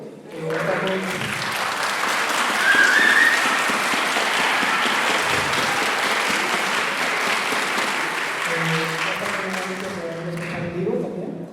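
An audience at an album listening session claps loudly and steadily for the new record, sustained dense applause lasting several seconds, with a voice speaking over it at the start and end.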